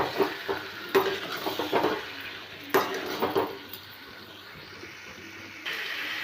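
A utensil stirs boiled potatoes into fried spice paste in a pan, giving several clattering scrapes against the metal in bursts over a soft, steady sizzle, close and fairly quiet.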